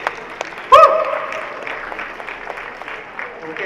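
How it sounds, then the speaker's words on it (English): Audience applause at a youth fashion show: a sharp burst of clapping breaks out, then settles into an even stretch of crowd clapping and murmuring that carries on under scattered voices. "Please give a big round of applause for your name."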